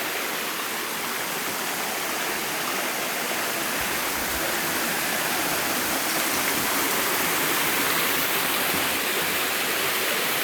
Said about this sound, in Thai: ทางสิไปเบิ่งน้ำตกขึ้นไปเรื่อยๆเด้อ